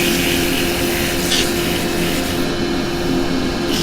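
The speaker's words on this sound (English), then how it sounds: "I've got to give that a bit of a sand before I go any further." Sanding a woodturned piece on a running lathe makes a loud, steady abrasive rubbing over a constant motor hum, close and unbroken with no talk.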